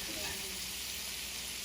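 Shrimp fry in a frying pan with a steady, dense sizzle that holds evenly throughout, close and continuous.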